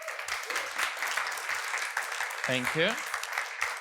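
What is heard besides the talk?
audience applause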